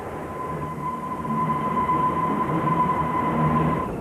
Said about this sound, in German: Freie Fahrt für die U-Bahn über die Oberbaumbrücke.